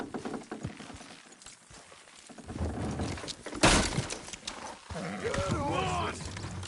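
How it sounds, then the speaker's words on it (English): In Red Dead Redemption 2, horses strain to pull a structure down. Hoof clops and thuds are followed by a sudden loud crash of breaking wood midway, and voices talk at moderate loudness around the action. "Horses will pull it clean down."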